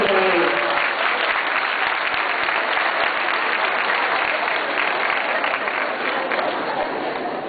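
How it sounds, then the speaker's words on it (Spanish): A large audience at a teachers' congress bursts into sustained, loud applause, a dense continuous roar of clapping from many hands that holds steady throughout. "Un aplauso para ellos."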